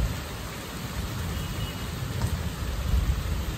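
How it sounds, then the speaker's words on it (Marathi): Heavy rain pours down steadily during an outdoor shoot beside a parked car, a dense, even wash of noise with low rumbling underneath and no voices. "यहाँ पे शूट चालू था और बारिश आ गई, बहुत ज्यादा आ गई"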